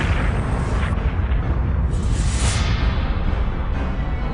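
A massive cosmic Big Bang rendered as a sound effect: a loud, sustained roaring blast that fills the whole clip with dense rumbling noise and a few swelling surges, with no voice.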